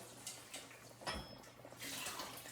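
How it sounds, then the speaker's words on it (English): Water splashes and runs as a cooking pot and its cover are rinsed, with soft intermittent splashing and a brief clink of metal in a kitchen, fairly quiet and close. "I'm going to rinse this pot, rinse the cover"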